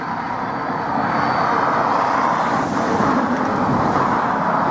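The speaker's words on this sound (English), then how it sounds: "traffic flies past this" Road traffic rushes past a roadside bend by a long flower verge near Ballysallagh, Bangor, a loud continuous roar of passing vehicles swelling close to the microphone.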